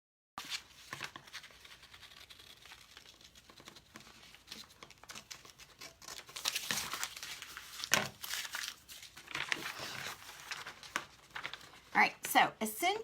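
Scissors cut through a paper moose pattern for a painted door hanger, giving faint crinkling and snipping that grows busier and closer toward the end, partly under a voice.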